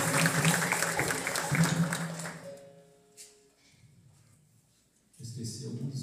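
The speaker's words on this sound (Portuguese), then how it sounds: "uma salva de palmas" Applause from a crowd at a capoeira group gathering, loud clapping mixed with voices for about two seconds, then fading into quieter murmuring before the noise swells again near the end.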